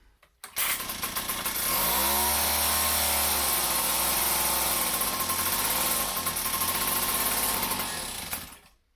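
An old outboard boat motor, its carburetor recently sprayed with carb cleaner and a fairly new spark plug fitted, catches after a brief start and runs at a high, buzzing rev, loud and close, settling for several seconds before cutting off.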